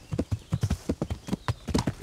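A horse in the medieval video game Kingdom Come: Deliverance gallops with rapid, rhythmic hoofbeats, loud and close, a steady drumming cadence running through the whole moment.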